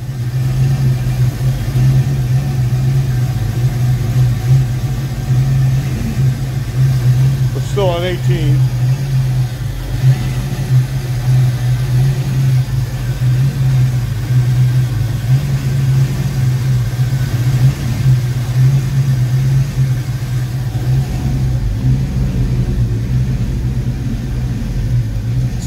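A Fox-body Ford Mustang engine idles steadily for a long stretch with its check engine light flashing, a constant low rumble close by, with a brief voice heard over it once.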